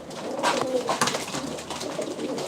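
Pigeons coo softly and repeatedly nearby, their low throaty calls overlapping with no one talking.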